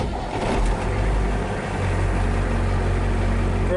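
A Studebaker engine runs steadily after work on its injector lines, a low, even rumble that holds from start to finish without pauses.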